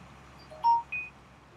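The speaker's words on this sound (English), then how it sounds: "my phone going off" Two short electronic beeps from a phone notification, a lower tone then a higher one, faint and brief over quiet farm-simulator background hum.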